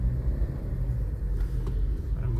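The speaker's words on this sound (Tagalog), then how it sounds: "Anong ginagawa ng kotse sa unahan ko" A car drives through road traffic in Mandaluyong, a loud, steady low engine and tire rumble heard from inside the vehicle, with faint passing traffic noise and no talking.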